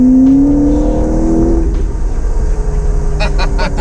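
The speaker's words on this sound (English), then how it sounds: "This is a turbo engine." A turbocharged car engine revs hard close by, its pitch climbing steadily and then settling into a loud, sustained roar, with a few sharp bursts near the end.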